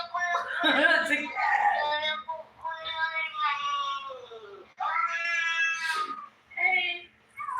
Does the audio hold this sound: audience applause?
no